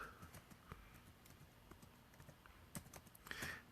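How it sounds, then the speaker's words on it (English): Keys tapped on a computer keyboard in quick, uneven bursts, clicking moderately close over a faint room background, with a louder cluster of strokes near the end. "I'm literally typing that as I go."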